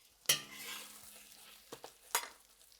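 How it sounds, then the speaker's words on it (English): An egg frying in a wok gets flipped with a spatula, one sharp metallic scrape and splash, then faint sizzling and two softer clinks, all quiet and close with no speech. "Now I'm just gonna flip it because the bottom is getting more cooked."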